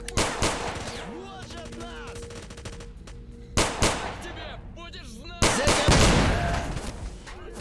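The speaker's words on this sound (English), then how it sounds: "the gunfire sounds are brilliant" Gunfire in the video game STALKER Narodnaya Solyanka: sharp bursts of rapid shots in several volleys, loud and close with echoing tails, quieter gaps and distant chatter between them.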